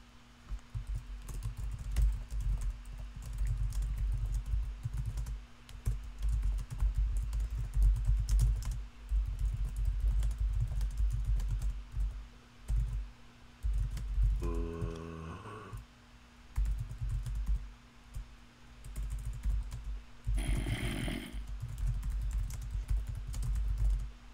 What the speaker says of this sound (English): Mango, what are you typing? I'm typing to Nessa